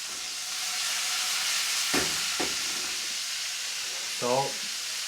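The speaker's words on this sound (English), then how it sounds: "We'll get my asparagus. Straight in the pan." Asparagus sizzling in a hot Mauviel 1830 stainless steel pan, a steady close hiss of frying throughout, broken by a few short spoken remarks.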